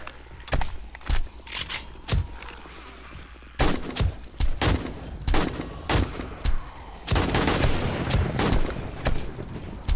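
Rapid bursts and single shots of gunfire in the survival game 7 Days to Die with the Darkness Falls mod, irregular and fairly loud, some shots clustered close together and louder near the end.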